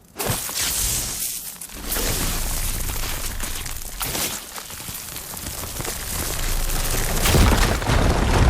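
In Horizon Forbidden West, an igniter blows up a firegleam deposit, setting off a sudden loud explosive boom followed by a sustained roaring crackle of fire and falling rubble that swells again toward the end, with no talking.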